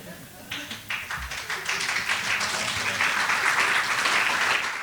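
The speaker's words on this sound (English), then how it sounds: "Dorothy smiles as the audience applauds her." A symposium audience bursts into applause, starting with a few scattered claps and quickly swelling into full, sustained clapping that stays strong to the end.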